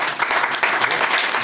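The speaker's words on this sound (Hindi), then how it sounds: "और ये ताली बजाओ इस बात पर" An audience at a community election gathering claps in a lively, slightly uneven burst, many hands heard close and loud without speech on top.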